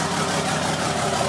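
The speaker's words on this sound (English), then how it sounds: "I'm gonna let her idle for a little bit because this is the first time I'm starting her up" A car engine idles steadily just after being started for the first time, a constant low rumble close by with no break or change in pitch.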